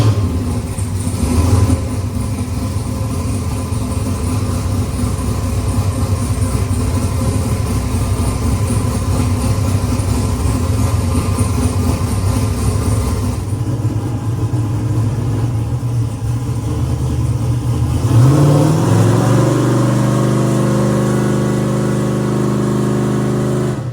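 A 5.3 V8 fitted with a large-frame 88mm turbo, idling with a loud, steady rumble before being revved up toward the end, close and continuous with no talking.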